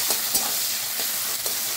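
Onion hits hot oil with whole garam masala, cardamom and cloves for a home-style fish kalia, giving a loud, steady close sizzle with a few soft stirring scrapes, no voices.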